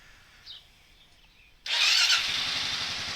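A Kawasaki KLR650 motorcycle engine starts after a quiet moment and then idles close by with a loud, steady broadband rumble and a faint hiss, running on alone with no talk.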